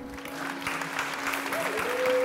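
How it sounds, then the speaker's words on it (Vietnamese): Audience applause at a Vietnamese talk-show taping, a steady wash of many hands clapping that holds throughout and swells slightly toward the end, with a faint tonal note running underneath. "Em vỗ tay cho sung thôi"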